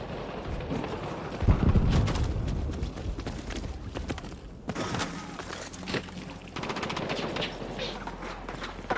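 Gunfire in a Battlefield match, sharp shots and rattling bursts crackling close by amid battle noise, with a heavy low rumble and a sustained drone toward the end.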